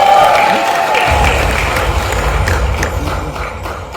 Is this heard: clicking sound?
no